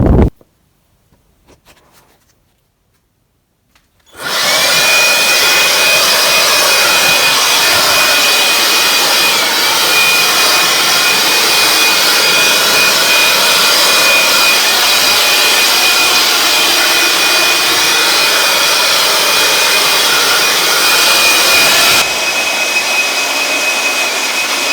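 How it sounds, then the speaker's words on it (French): Ryobi 18V R18TB cordless workshop blower starts after a few quiet seconds and runs loud and close with a steady rushing whine of air and motor, then its tone shifts slightly near the end. "Donc petit exemple d'utilisation sympa du souffleur"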